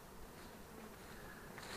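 Honeybees hum around hives of chestnut-honey colonies at an apiary, a faint, dense continuous buzzing with no talk.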